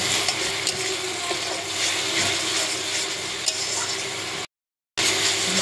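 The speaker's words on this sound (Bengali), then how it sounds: "ভালো করে এটাকে নাড়িয়ে নিই।" Spice paste frying with browned onions in a pan hisses in a steady, close sizzle while a spoon scrapes and stirs through it, broken once by a brief moment of silence near the end.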